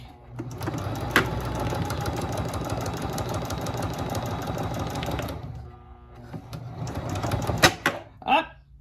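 A sewing machine runs in a steady, rapid mechanical chatter for about five seconds while stitching lines on plastic, then stops and gives a few short bursts and clicks.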